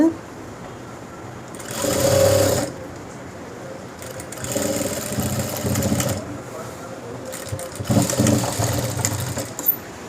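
A sewing machine stitches a school uniform coat in several bursts of fast whirring, loud and close, with quieter handling sounds between runs.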